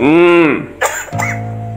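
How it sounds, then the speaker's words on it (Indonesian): A single harsh, close cough from a man, followed by a throat-clearing grunt and a short hum, loud and alone. "Coba kita ulangi batuknya"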